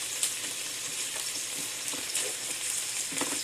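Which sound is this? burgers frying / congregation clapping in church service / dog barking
burgers frying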